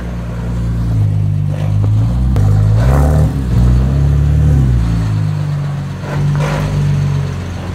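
A BMW's engine revs hard and close while drifting, surging and easing in repeated loud bursts with a deep rumble throughout, as the engine starts knocking.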